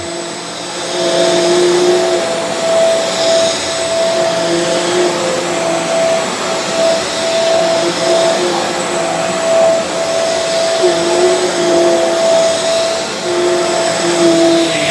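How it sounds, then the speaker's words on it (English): A Shark Carpet Xpert Hair Pro StainStriker EX30 carpet cleaner runs in dry-only suction mode, giving a loud, steady motor whine with a constant pitch throughout and no talk. "Now it's in dry only. It's only going to have suction."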